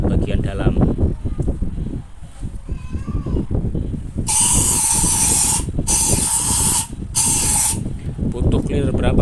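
Aerosol cleaner sprayed into the throttle body and intake of a Honda PCX 150 scooter, heard as three loud, steady hissing bursts close by, following a stretch of talk.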